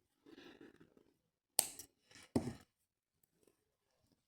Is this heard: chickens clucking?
no